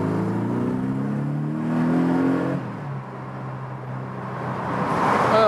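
A 2018 Porsche 718 Boxster engine revs up with a deep, rising exhaust roar, eases off briefly, then climbs again into a louder growl.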